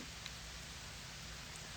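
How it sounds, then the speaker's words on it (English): Light rain beginning to fall outdoors in rural Florida, a faint, steady patter of drops hissing evenly with no other sounds. "now it's starting to like rain, so I might have to move."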